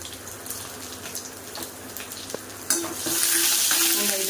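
Whole cloves, a cardamom pod, bay leaf and curry leaves sizzle steadily in hot oil, a continuous crackling fry with occasional stirring clinks, growing louder and brighter toward the end.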